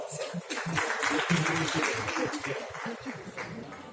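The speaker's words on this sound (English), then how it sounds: "I request all of you to kindly do give him a warm applause." Audience applause at the inauguration of the India International Trade Fair 2021 for a minister on stage, a steady wash of clapping from a large crowd lasting throughout, fairly soft and even.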